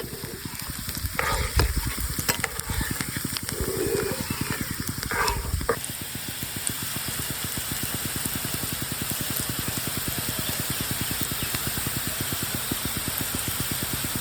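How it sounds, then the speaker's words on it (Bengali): Onion fritters fry in hot oil with a steady, dense sizzle and crackle, loud and close, with a few brief stirring sounds early on. "দেখবেন এটা ভাজতে ভাজতে একদমই কমে যাবে।"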